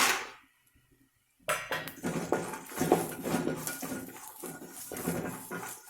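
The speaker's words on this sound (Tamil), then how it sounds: "நான் நிலக்கடலை கொஞ்சம் போட்டுக்கிறேன்." Peanuts tumble into a metal pan while coriander rice is cooked, producing a dense rattling clatter after a brief quiet pause, close and fairly loud.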